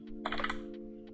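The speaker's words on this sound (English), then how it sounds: "I will use this run app again and type here" Quick keystrokes tap on a computer keyboard, a short flurry of close clicks over a faint steady hum.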